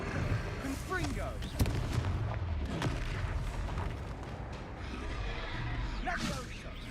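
In the Hogwarts Legacy video game, a Confringo fire spell bursts with a booming blast amid rumbling combat noise, while a voice calls out over the fighting.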